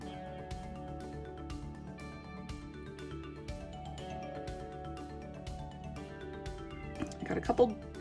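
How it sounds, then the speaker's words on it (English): A house cat meows a few times over background music during an acrylic flip-cup paint pour, the calls sparse and fairly soft, with a louder burst near the end. "Very hard to do with the cat meowing."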